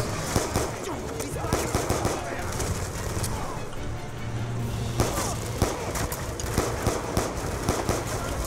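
Sustained automatic gunfire in a Black Ops 2 campaign battle, dense bursts crackling close and loud in uneven volleys over a continuous din, with a faint voice occasionally under the shooting.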